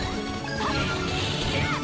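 A fighting stage in Power Stone 2 breaking apart, heard as a steady loud rumble of crashing and smashing game effects mixed with dense background audio.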